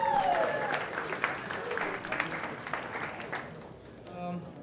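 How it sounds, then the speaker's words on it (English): An audience at a startup pitch evening gives moderate, fairly quiet applause that gradually thins out, with voices heard near the end as a presenter starts. "round of applause for our third presenters tonight"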